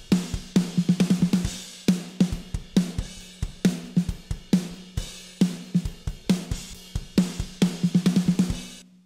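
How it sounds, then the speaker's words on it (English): Snare drum heard through a pair of AKG 414 overhead mics blended with the close direct mics, struck in rapid repeated patterns of hits and quick rolls, punchy and loud with no talking. "Putting that together with the direct sounds something like this."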